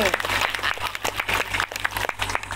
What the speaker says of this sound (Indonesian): Tepuk tangan buat Bapak MDT